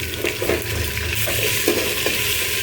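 Garlic fries in hot oil in a pan alongside fried fish, a steady close sizzle broken by soft stirring scrapes and clinks.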